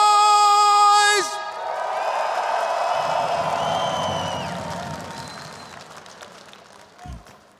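Esports crowd at a PGL Astana 2026 CS playoff quarterfinal between FURIA and Team Falcons roars with cheers, whoops and applause after an announcer's tonal sting ends, a loud sustained swell that slowly fades over several seconds.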